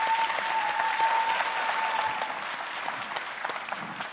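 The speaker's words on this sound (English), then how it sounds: "Please give her a round of applause." A crowd claps steadily and enthusiastically, a dense wash of applause that tapers off slightly toward the end.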